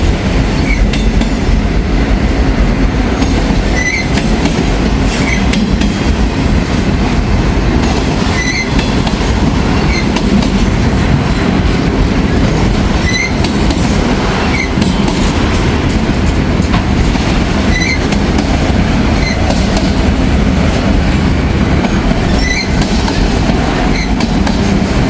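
A freight train with auto rack cars at the rear rolls steadily past up close, a loud unbroken rumble with repeated clacking over the joints and recurring high wheel squeals.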